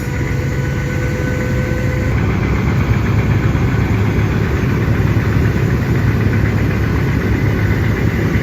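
Engines of two passenger launch boats racing side by side on a river, a loud, steady, dense low rumble with a constant drone throughout and no talk.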